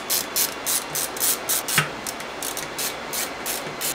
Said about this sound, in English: Okay, let's open up now underneath. Six screws here.